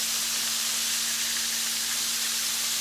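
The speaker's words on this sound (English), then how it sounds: "Let's get it frying." A steak sears in a hot skillet, giving a steady, even sizzle and hiss that holds unbroken from start to finish with no talking over it.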